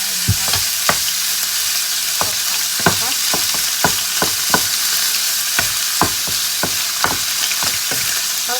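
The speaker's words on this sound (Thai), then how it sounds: "ตั้งกระทะนะคะแล้วก็ใส่เนื้อลงไปเลยนะคะเนื้อสับ" Minced beef sizzles steadily in a hot pan, with repeated scraping clicks of a utensil stirring it, close and fairly loud.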